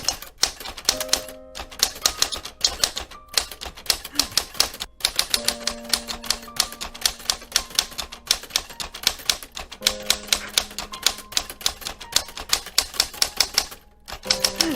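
Rapid, continuous clacking of a typewriter's keys, loud and close, punctuated by short pauses and occasional bell dings and carriage returns.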